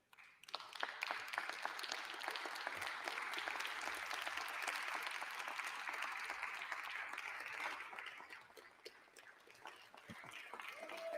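Members of the House of Representatives give a standing ovation in the chamber, a dense, continuous wash of clapping heard at a distance, sustained at an even level throughout and slightly muffled.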